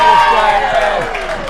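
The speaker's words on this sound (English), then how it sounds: "And the crowd goes nuts." Spectators at a women's candlepin bowling match cheer and applaud after a strike, a brief burst of crowd noise under a commentator's talk.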